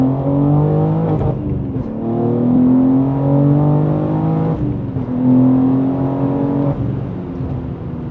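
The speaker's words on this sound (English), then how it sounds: "It is really putting down some power, this car." A manual BMW M3 G80 accelerates hard through the gears on scenic roads, its engine note rising in strong harmonic sweeps with brief dips at each shift, loud and close from inside the cabin.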